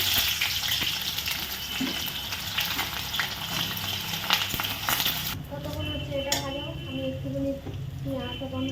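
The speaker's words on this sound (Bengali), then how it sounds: "তেল গরম হয়ে গেছে দুটো শুকনো লঙ্কা হচ্ছে পেঁয়াজটা দিয়ে" Whole dried red chillies and onion frying in hot oil for a Bengali chicken dish, a dense broadband sizzle with stirring and pan clatter, then the frying continues more softly beside a faint voice and household sounds.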